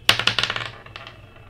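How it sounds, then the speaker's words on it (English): Dice rolled onto a hard surface during a random name and team shuffle, a quick clatter of several sharp bouncing clicks that fade over about a second. "let's go ahead and roll the dice"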